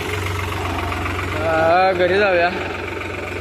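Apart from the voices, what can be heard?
tractor engine running while driving home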